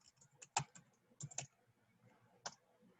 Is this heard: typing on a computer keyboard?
yes